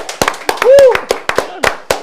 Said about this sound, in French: Je vous demande s'il vous plaît d'applaudir correctement et comme il se doit.